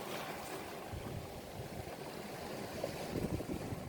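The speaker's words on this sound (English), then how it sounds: "focus on the sound of the waves" Ocean waves washing onto a rocky shore, faint and distant, a continuous soft surging wash with small swells rising and falling.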